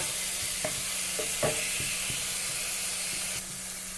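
Curry leaves frying in hot oil in a pan, a steady close sizzle and hiss with several soft stirring scrapes in the first half and the sizzle easing slightly toward the end.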